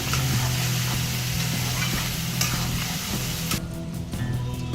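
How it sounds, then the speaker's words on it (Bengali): Spices with salt and turmeric sizzling and being stirred in a pan for a jackfruit and prawn curry, a steady close frying hiss with scraping stir sounds throughout. "এরপরে হচ্ছে স্বাদ অনুযায়ী লবণ এরপরে হলুদ গুঁড়ো আবারও একটু কষিয়ে নিতে হবে"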